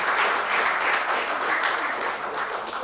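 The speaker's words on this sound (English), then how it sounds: "a big round of applause to everyone" An audience at an entrepreneur conclave in Mumbai applauds steadily for a few seconds, a dense, even clapping that fills the room without any voice over it.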